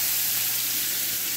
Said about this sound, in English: I'm going to cook this first.